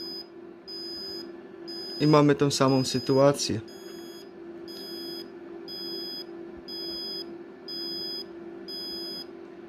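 A steady electronic alarm beeps in a regular repeating pattern throughout, with a short burst of speech partway through.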